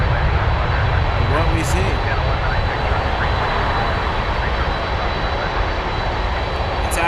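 Regional jet engines roar steadily at Toronto Pearson airport, a loud continuous broadband rumble held throughout, with a brief spoken remark over it.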